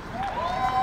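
A crowd at an outdoor Patriots of Prayer rally, with state police present, applauds for a man named Jim. It is a short, steady wash of clapping at moderate distance, with a few thin whistle-like cheers riding on top.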